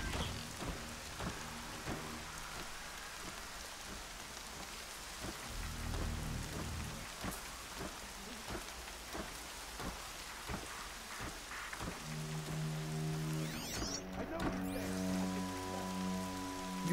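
Rain falling in the video game Horizon Zero Dawn, a steady wash of drops pattering on surfaces, with rumbling thunder and other game sounds rising toward the end, no voices.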